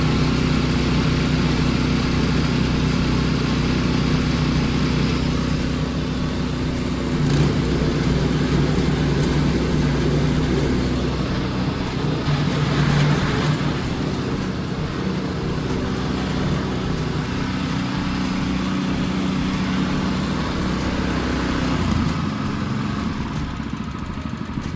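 A Predator 212 engine swapped onto an old, 40-year-old Bolens snowblower runs continuously, spinning the auger with a steady, loud mid-pitched drone and slight fluctuations throughout.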